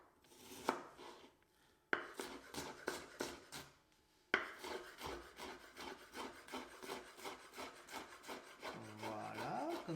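A knife finely chops an onion on a cutting board in quick, steady runs of close, crisp taps with short pauses between bursts, the chopping carrying on alone and up close.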